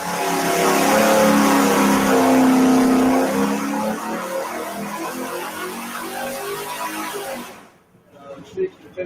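A Pontiac Super Duty engine roars at full throttle, loud and close, rising then easing off and dropping away abruptly near the end, with a voice mixed in over the engine noise.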